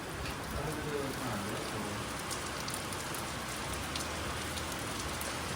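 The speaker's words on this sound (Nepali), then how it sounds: "पानी पर्न थाल्यो" Rain begins falling steadily outdoors, a dense even hiss of drops on surfaces filling the whole stretch at constant loudness, with faint voices underneath.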